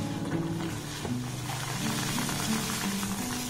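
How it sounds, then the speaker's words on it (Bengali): Shell-shaped palm pitha cakes simmering in sugar syrup in a pan on a gas stove at low to medium heat: a soft, continuous bubbling hiss, close and steady, with no talking. "পিঠেগুলোকে শিরার মধ্যে দিয়ে আমি 2 মিনিট ধরে একটু ফুটিয়ে নেব।"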